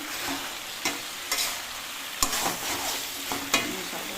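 Vegetables and soya beans sizzle steadily in a hot pan, with a few sharp clicks of a utensil stirring through the frying. No one speaks.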